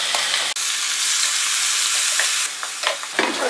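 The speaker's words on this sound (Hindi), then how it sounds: "प्याज को भी हल्का सा भून लेंगे।" Onion frying with ginger, garlic and green chili paste for a stuffed tinda dish, a dense, loud sizzle broken by a brief drop and a few stirring scrapes near the end.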